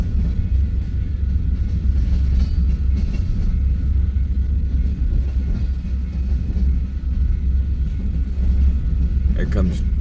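A freight train hauling Cryotrans refrigerated cars rolls past with a steady, loud low rumble and rail noise throughout, while someone talks over it.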